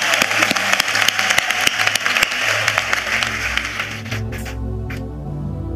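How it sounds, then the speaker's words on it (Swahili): A church congregation bursts into dense, rapid clapping during a sermon, the applause loud and close for about four seconds before it abruptly dies away into a few scattered claps and room murmur. "Ukikataa kupiga makofi napiga mwenyewe,"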